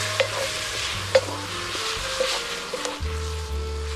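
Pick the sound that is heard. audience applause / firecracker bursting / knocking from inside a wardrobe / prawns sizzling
prawns sizzling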